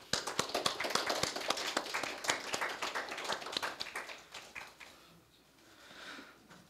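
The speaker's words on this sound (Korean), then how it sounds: "오늘 학위 수여를 받은 졸업생 여러분께 다시 한번 큰 박수로 축하해 주시기" Hall audience at a Korea University degree ceremony applauding the graduates: sharp, dense clapping that thins and fades out toward the end, leaving quiet room tone.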